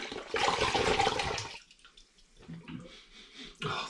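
Vimto cordial pours from a bottle into a fermenter holding spring water for a home-brew cider, a loud gurgling splash that tapers off, followed by quieter trickles and a second burst of pouring.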